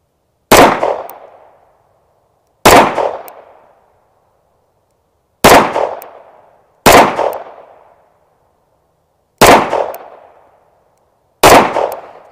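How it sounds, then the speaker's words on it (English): Six single shots from a Staccato pistol at a shooting range, each a sharp loud crack with a short decaying echo, fired at uneven intervals with silence between them. "we're going to shoot the Staccato here and see what we think of it accuracy wise"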